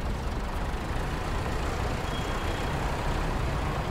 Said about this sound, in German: Der Abschlepper kommt.